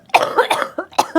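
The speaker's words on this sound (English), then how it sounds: "I know that you didn't mean to cough." A person lets out a rapid run of close, loud coughs in quick succession, a harsh throat-clearing burst within about a second.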